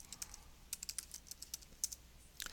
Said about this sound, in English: So I'll type in photography